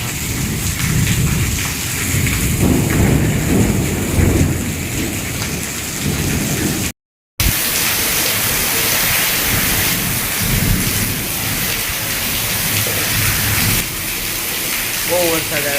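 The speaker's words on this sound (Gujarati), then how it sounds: "વીજળીનો અવાજ તો જો કેટલો આવે છે." Thunder rolls in a heavy rainstorm in Rajkot, deep rumbles rising over loud, constant rain hiss, with one brief break in the sound and a voice heard near the end.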